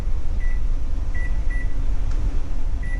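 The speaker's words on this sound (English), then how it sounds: "Go ahead and set my timer." Oven timer being set on a kitchen oven, giving a few short, clear electronic beeps spaced irregularly over a steady low hum of the appliance.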